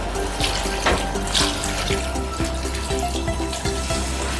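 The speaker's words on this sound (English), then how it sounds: "and then add more water to it." Tap water runs steadily into a pot holding washed smoked catfish for stock, giving a continuous close hiss and gush. Small clanks sound as the pot shifts under the stream.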